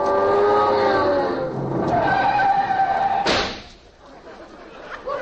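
A car sound effect for an old-time 1941 radio comedy roars and whines, swerves into a brief screech and slam, then drops away to a quiet rumble.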